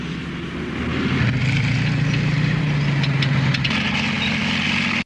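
Tank engines rumble in a movie scene, a loud, steady low drone that holds for about five seconds before cutting off abruptly.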